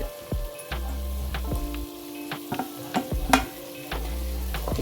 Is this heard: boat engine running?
no